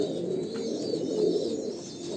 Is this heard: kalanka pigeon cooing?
yes